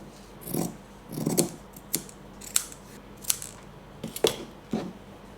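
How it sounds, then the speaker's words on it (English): Scissors snip through the edge of a sewn fabric seam on a two-tone fabric-covered bow headband, giving about seven short, crisp cuts at irregular intervals, close and fairly quiet with no talking. "I am going to cut the edge here"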